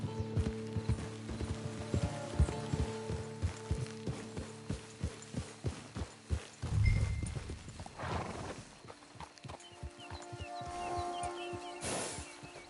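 Horse hooves clip-clop in a steady rhythm in a PS4 video game, close and clear, followed by a whinny and mechanical clicking sounds.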